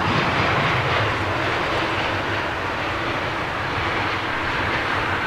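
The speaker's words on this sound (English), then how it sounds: "Nice little set of Leap 1As." Airliner powered by CFM LEAP-1A engines roaring steadily and loud at Heathrow, a broad sustained engine rush close by with no voices.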